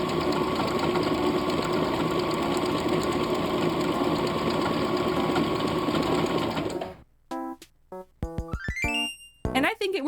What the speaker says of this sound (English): I am also ignoring all cries of help that are coming from my sewing machine.